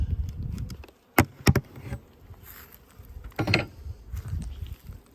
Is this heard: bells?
no